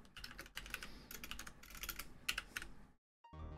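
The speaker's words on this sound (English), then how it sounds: "Typing." Fast typing on a computer keyboard, close and continuous with bursts of clicking keys, then a brief silence before the typing starts again.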